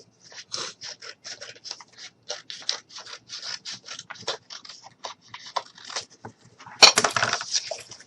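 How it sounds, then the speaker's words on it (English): A strip of material being cut with scissors for a mini truck build, close and quiet, with a run of short snips and rubbing followed by a louder crunching cut near the end. "So I'm just going to go ahead and just cut up a little."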